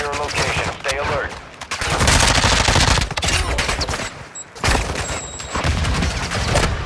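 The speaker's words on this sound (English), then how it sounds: "Taking effective fire." Heavy automatic gunfire and sharp shots rattle continuously through a Call of Duty Warzone city raid in Al Mazrah, loud and close, with brief gaps between bursts.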